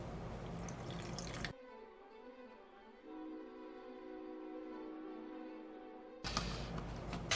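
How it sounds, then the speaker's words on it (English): A small amount of water trickles and drips into mixed media paint. The quiet pouring runs between two louder, noisier bursts at either end. "I'm going to add a little bit of water."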